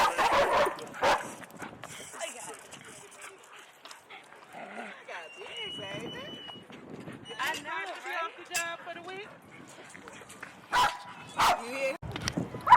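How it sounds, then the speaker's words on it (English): Several dogs barking and yipping outdoors at a park, some near and some farther off, in irregular bursts with a person talking between them. "There's a lot of barking, and I ran into the park, and it's too much barking."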